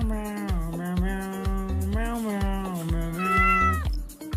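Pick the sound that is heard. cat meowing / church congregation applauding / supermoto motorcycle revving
cat meowing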